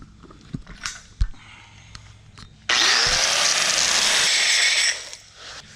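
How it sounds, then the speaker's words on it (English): An angle grinder touches up a brake bracket on an 18 hp go-kart: after a few quiet clunks and handling knocks, the grinder whines loudly and steadily for about two seconds, then cuts off and spins down, close by. "let's touch up a little bit with the grinder"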